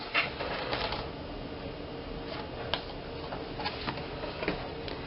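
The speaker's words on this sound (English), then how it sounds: "So I place it in my trimmer on the reverse side, and then I'm going to make another cut" A paper trimmer blade cuts through a sheet of cardstock for a recipe card box, giving a quiet run of small ticking clicks, with a few sharper snaps near the end and no voices.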